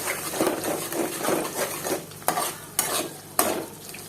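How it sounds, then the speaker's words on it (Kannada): Eggs stirred into fried vegetables in a pan over high flame, with a steady sizzle under scraping spatula strokes and a few sharp clinks of metal against the pan near the end, no talk. "ಎಲ್ಲ ಫ್ರೈ ಆದಮೇಲೆ ಒಂದು ನಾಲ್ಕು ಮೊಟ್ಟೆ ಹಾಕ್ಕೊಳ್ತಾ ಇದ್ದೀನಿ"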